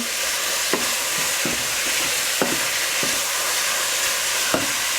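Beef suqaar, a Somali stew of beef pieces, fries in a pan with a constant close sizzle and hiss. A spoon scrapes and taps in an irregular rhythm, about once a second, with sharper knocks now and then.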